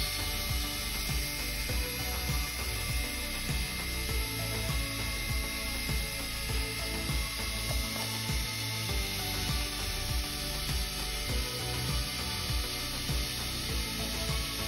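A homemade mixing tool built from K'Nex stirs resin, giving a continuous dense clattering, ratcheting rattle with rhythmic plastic knocks that holds at constant loudness throughout, close to the listener.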